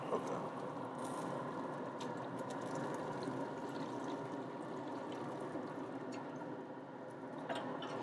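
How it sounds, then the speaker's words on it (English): About two cups of stock are poured into a pan of pork for pulled pork cooked on a pellet grill. A faint, steady liquid trickle is heard up close with light splashing and no talk. "pour that stock in there"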